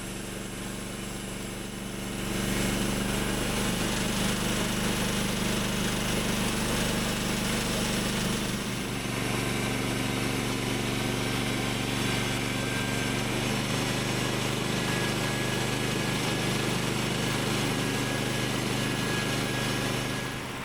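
A Woodland Mills portable sawmill saws logs for board and batten siding, a continuous loud engine whine that rises after a couple of seconds and holds steady, close by, with no talk.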